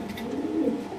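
Low, throaty cooing from a Netherlands racing pigeon, banded NL 2019, a soft continuous burble swelling slightly in the middle of the second, close by with no talk.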